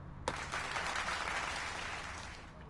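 A short burst of thin, crowd-like canned clapping in WWE 2K24 starts abruptly and holds steady before fading slightly, with no voices over it.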